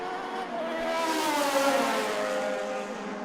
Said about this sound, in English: the big 4-litre F1 engine, the Judd, just powers away here out on the main straight